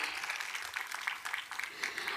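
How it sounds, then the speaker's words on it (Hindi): Students at a girls' gurukul annual function clap to welcome guests, a moderate, fairly even patter of many hands heard from a short distance. "हम सभी ताली बजा करके स्वागत करेंगे।"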